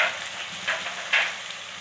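Tomatoes and chili hit a pan of frying potato and eggplant for an aloo baingan masala, giving a steady faint sizzle with two or three brief louder bursts of spitting oil.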